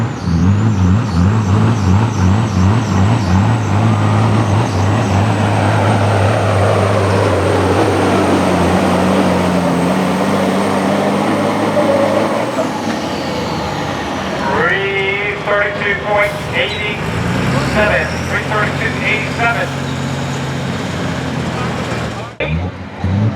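A hot Peterbilt semi truck drives past at a truck event at Millers Tavern, its loud droning engine roaring close before fading, followed by air-brake hisses and whining mechanical noise, with talking heard over it.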